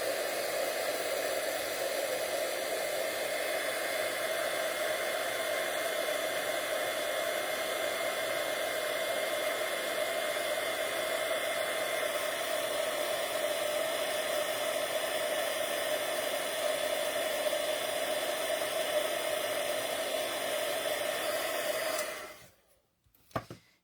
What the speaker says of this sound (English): here comes the heat tool